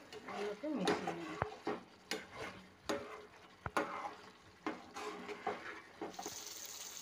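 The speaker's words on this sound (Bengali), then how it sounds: "দিয়ে আর একটু এগুলোকে মিশিয়ে নেব" A spoon stirs garam masala through veg paneer masala in a pan, giving a series of soft scraping and clinking strokes at an uneven rhythm with faint sizzling underneath.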